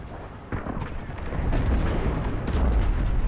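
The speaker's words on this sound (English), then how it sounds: "The frigate is about to explode!" A frigate exploding in the space combat game Star Wars: Squadrons, a sudden deep boom swelling into a sustained roaring rumble with further blasts layered on top, loud and dense throughout.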